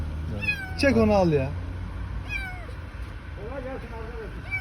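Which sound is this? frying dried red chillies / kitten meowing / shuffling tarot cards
kitten meowing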